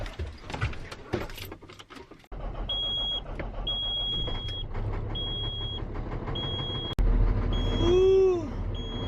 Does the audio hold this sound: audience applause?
no